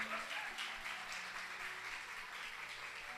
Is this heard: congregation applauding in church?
yes